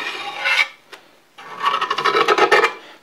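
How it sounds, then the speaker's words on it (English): A brush scrubs and scrapes high build primer off a South Bend pedestal grinder base in a sink: one short rasping stroke, a brief tap, then a longer run of quick back-and-forth scrubbing strokes, close and loud. "When we just scrape all this high build primer, it comes right off."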